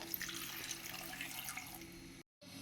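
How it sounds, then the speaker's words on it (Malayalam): Water running and splashing as a glass of it is poured into a pot holding onion and potato pieces, a steady trickling stream that stops abruptly near the end, quiet and close with no talk. "ഇനി അതിലേക്ക് 1 ഗ്ലാസ് വെള്ളം ഒഴിച്ച് കൊടുക്കാം കേട്ടോ"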